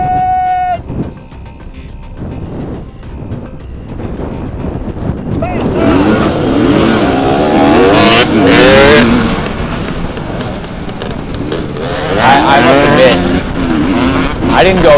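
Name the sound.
race cars racing in TORCS video game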